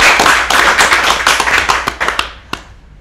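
Applause for a metal band at a talk show, loud close clapping from a small audience that thins out and ends with a last few scattered claps.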